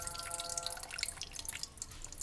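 Excess water is poured off cooked spinach, giving a light, irregular trickle and patter of drips into a vessel, soft and close, with no voices.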